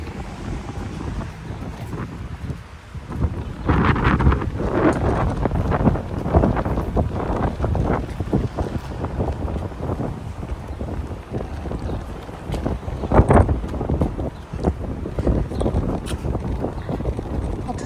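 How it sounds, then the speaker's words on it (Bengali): Spring wind gusting outdoors and buffeting the microphone with loud, rumbling blasts that rise and fall throughout, steady roar between gusts. "অনেক সুন্দর বাতাস"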